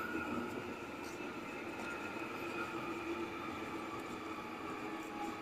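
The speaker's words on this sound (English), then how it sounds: "Ooh, another train going by." A London Underground tube train passes near a residential development in Colindale, a steady rumbling rail noise with faint squeal that holds at an even level, with no talk over it.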